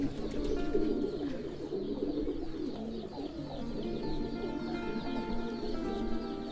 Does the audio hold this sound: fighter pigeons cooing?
yes